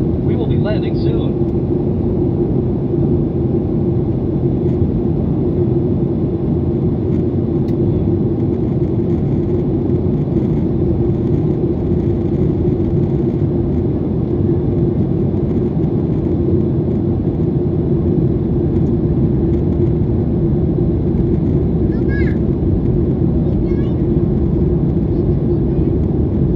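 Inside the cabin of an American Airlines Boeing 737-800 on landing approach from Orlando to Charlotte, a loud, constant low engine and airflow drone runs throughout, with faint voices here and there.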